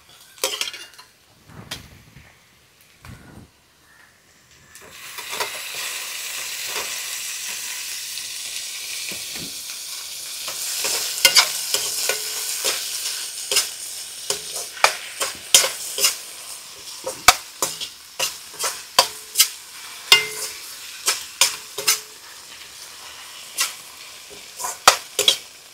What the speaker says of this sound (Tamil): வெங்காயம் நல்லா வதங்கிடுச்சு. இதை தக்காளியை போட்டுருவோம்.